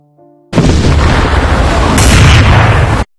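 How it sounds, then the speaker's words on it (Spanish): A single loud, deep explosion erupts after a faint tone and roars for about two and a half seconds before cutting off. "se desvaneció al escuchar una explosión muy fuerte cerca de unas cuadras"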